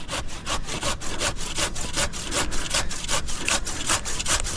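Hand saw cutting through a large tree trunk outdoors, a steady back-and-forth rasp of close, loud strokes repeating about three times a second with no talking.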